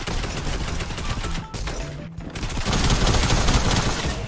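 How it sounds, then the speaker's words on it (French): Rapid video-game gunfire crackles in dense, continuous bursts, loud and close, with a brief dip partway through before the shooting surges again. "je mets des balles depuis tout à l'heure"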